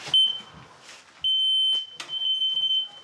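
A smoke alarm sounds in a house being shown during a construction demonstration, giving loud, piercing sustained beeps in repeated bursts, with voices and handling noises between them.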